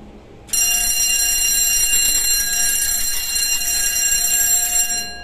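A fire alarm bell on an FM200 Contex control panel rings steadily and loudly during a test, starting abruptly and continuing unbroken with no talk over it.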